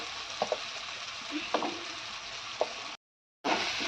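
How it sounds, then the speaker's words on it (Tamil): Masala spices (turmeric, chilli and curry powder) sautéing in oil with onions for a broad bean curry, a steady close sizzle with occasional spoon clicks against the pan, briefly cut to silence near the end. "மசாலாவில் நல்லா எண்ணெய் எண்ணெயில் வதங்கட்டும்"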